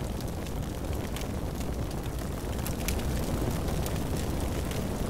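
Grenade explosions rumble through a Combat Mission Red Thunder battle, Soviet side in the siege of Festung Posen, a dense continuous roar of blasts and crackle with no clear gaps, loud and steady across the whole stretch.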